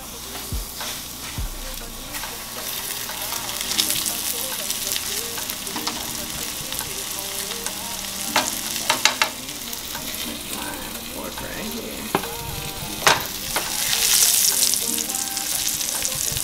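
Food frying in piping hot oil, a steady close sizzle and hiss that runs the whole time, broken by occasional pops, spatters and utensil knocks, with a faint voice now and then under it.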